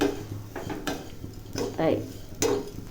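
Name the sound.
frying flattened rice (chira) in a pan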